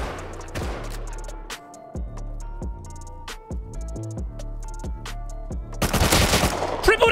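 Rapid automatic gunfire in the survival game Rust, loud and close: dense bursts of shots with short pauses, ending in a heavier flurry of fire.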